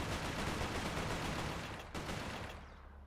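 Rapid bursts of gunfire from the video game Resistance: Fall of Man on PS3, dense and continuous for about two seconds, then a sharp cutoff and a fading tail.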